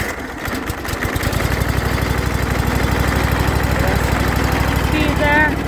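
A small engine, started with the choke pulled out, runs to chop corn for cattle feed, giving a steady close mid-pitched drone with a fast regular pulse throughout and a brief squeal near the end.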